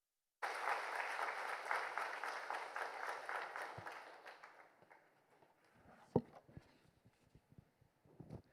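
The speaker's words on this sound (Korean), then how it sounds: "영상 끝나면 박수 하실 거죠?" A church congregation applauds steadily for about three seconds at a Sunday service, the clapping thinning out and fading, followed by scattered taps, a sharp knock and faint room shuffling.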